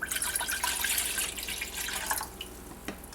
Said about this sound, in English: And then we would pour our water in